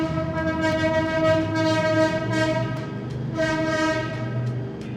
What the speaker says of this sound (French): Qui aurait cru que c'était un klaxon de Dodge?